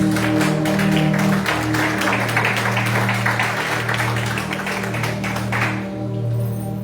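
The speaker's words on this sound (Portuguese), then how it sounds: "Dê uma salva de palmas para o Senhor." A congregation applauds at a church youth congress, a sustained burst of many hands clapping over a steady low organ or keyboard drone, fading slightly near the end.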